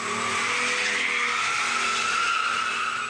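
A hoon's car skids with sustained loud tire squeal and engine roar on a suburban street at night in Girrawheen, unbroken for the whole stretch.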